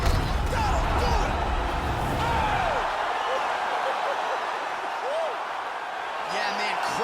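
The arena crowd in UFC 4 roars with a sustained cheer after a knockout, loud and continuous, while a commentator talks over it.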